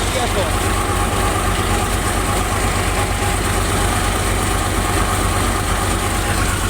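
A tractor engine idles steadily at about 1100 rpm with a low, even rumble and throb, loud and close, unchanging from start to finish.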